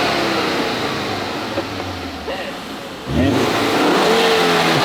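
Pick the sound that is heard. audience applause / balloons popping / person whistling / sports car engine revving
sports car engine revving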